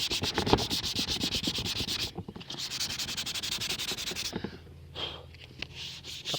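Rubbing down a primed car bumper by hand with sandpaper, giving quick back-and-forth rasping strokes in a steady rhythm, close and fairly quiet, followed by slower, softer rubs near the end.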